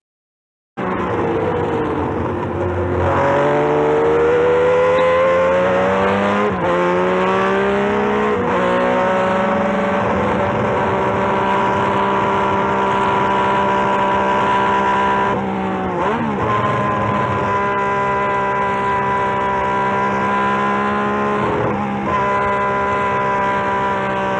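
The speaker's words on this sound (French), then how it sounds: "le fabuleux V12 de 3000 cm3 fabriqué par Ferrari" A high-pitched Ferrari 3000 cc V12 Formula One engine screams steadily, its harmonic whine rising through gear changes with brief dips between shifts, loud and close with no voices.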